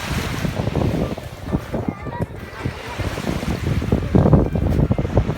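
Sea waves along the Çıralı coast in Antalya wash and surge in uneven bursts, mixed with strong wind buffeting the microphone, loud and close throughout.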